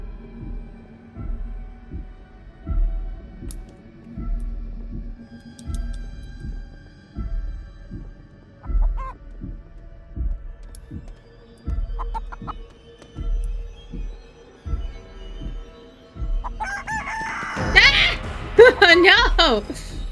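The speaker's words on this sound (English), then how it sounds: "Stupid chicken!" Chicken clucking from a horror video game about chickens: a steady run of short, rhythmic clucks and thumps fills most of the stretch, ending in a louder burst of squawking near the close, with no talking.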